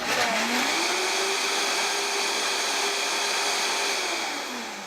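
A powerful Vitamix blender whirs at high speed blending hot soup, its motor pitch rising, holding steady, then dropping as it winds down.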